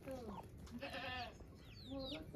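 A goat tethered at a farmhouse gives a few close, wavering bleats, one long quavering call in the middle and shorter ones around it, with faint talk nearby.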